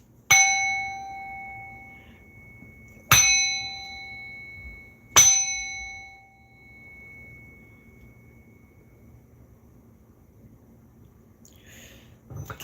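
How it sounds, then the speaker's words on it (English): A hand bell is struck three times, each a bright ringing ding that decays slowly, the strikes spaced a few seconds apart, close and clear in a quiet room, followed by faint rustling. "I'm going to ring this bell."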